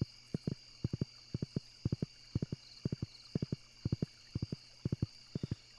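Horse hooves clip-clopping as a character rides through Stardew Valley, a steady repeating pattern of quick triple-beat thuds over a quiet ambient game hum, with no talking.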